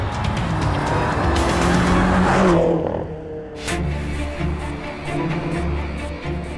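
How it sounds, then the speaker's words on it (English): BMW M6 from 2012 driving hard on the Nürburgring circuit: a loud engine roar that rises and then drops off, followed by a quieter lower engine note with faint tire noise, with no talking. "The complete handling character of the new BMW M6 is, as expected, very sporty, tested on the Nürburgring circuit."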